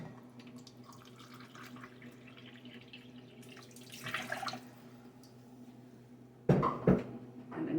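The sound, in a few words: pouring a cup of water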